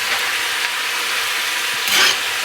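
String beans and onions sizzle steadily in a pan over medium heat while being stirred, a close, even hiss with a soft scraping swell near the end and no talking.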